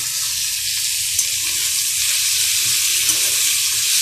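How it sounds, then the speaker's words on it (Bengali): Steady, dense sizzle of potato and pointed gourd peels frying in a pan, continuous and close with no talking, and a couple of faint clinks as they are stirred. "একটু ঢেকে ঢেকে ভাজতে হবে"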